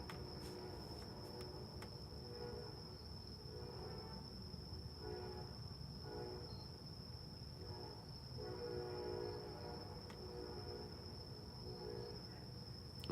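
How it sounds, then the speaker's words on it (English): A train on tracks about a mile and a half away, heard across a lake, makes a steady low rumble with faint horn tones, continuous and distant, with insects chirping over it. "when I can hear the train rolling through, I love it."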